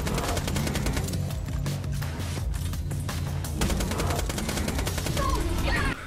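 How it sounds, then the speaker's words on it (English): Rapid bursts of Hyperion SMG fire in Borderlands 2 rattle through a dense game soundscape, repeated automatic volleys mixed with impacts and effects, loud and steady throughout. "Using my Hyperion SMG, I was able to take out the bully monks with ease"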